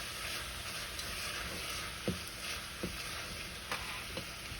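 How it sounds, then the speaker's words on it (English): Garlic and Italian seasoning frying in a pan, a low, quiet sizzle with a handful of light spoon scrapes and taps spread out over a few seconds, nobody talking. "let me just stir this a little"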